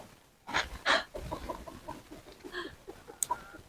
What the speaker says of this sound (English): He makes that noise, that means that's telling the hens there's food there.